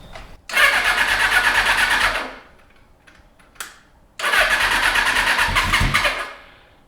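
A vintage drag motorcycle engine, in neutral on a fresh battery, cranks loudly in two separate bursts about two seconds each with a short quiet gap between them.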